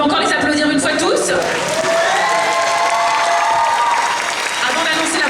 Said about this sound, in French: Donc on peut encore les applaudir une fois tous.